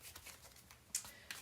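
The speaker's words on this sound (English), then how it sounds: "I can't shuffle the whole deck at once." A deck of Tea Leaf Fortune cards is shuffled in a quick, close, soft riffle with a few sharper flicks, heard briefly on its own.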